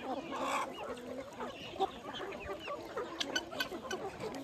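Free-range village chickens cluck steadily across half an acre of open poultry farmland, with several birds calling at once near and far and no talk.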